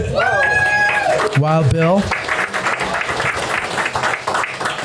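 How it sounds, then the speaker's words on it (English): Audience applause at a live event held at a historic farmhouse in Gettysburg, clapping at moderate level that rises after someone speaks loudly at the start and continues as a dense patter to the end. "All right, big applause."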